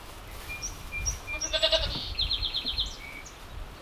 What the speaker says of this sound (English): They live here in this little goat pen